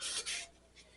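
Short rasping strokes of hand sanding on Corvair paintwork, two quick rubs close up followed by a fainter third, quiet and alone.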